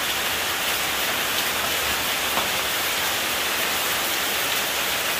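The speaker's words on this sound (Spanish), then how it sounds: "Y hoy día se vino la lluvia, miren." Steady rain hisses evenly throughout, a constant wash of falling water with no talk.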